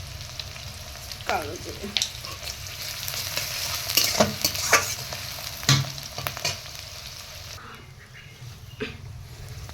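Black cumin seeds fry in hot mustard oil, a steady sizzle with scraping stirs and a few louder clicks, quieting near the end while a voice speaks briefly.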